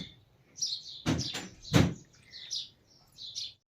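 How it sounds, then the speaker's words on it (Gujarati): Sparrows give high, thin chirps in short bursts in a village around 6:30, interrupted by a couple of dull knocks nearby in an otherwise quiet setting. "ચકલિયું પણ બોલે છે. જો ચી ચી કરે છે."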